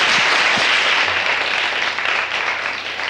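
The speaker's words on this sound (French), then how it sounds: "Hey, on s'applaudit encore" An audience at a televised music show claps steadily in a dense, even wash of applause that continues without pause.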